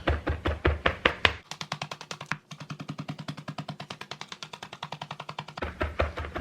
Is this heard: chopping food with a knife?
yes